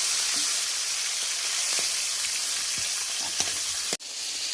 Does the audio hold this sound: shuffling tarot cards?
no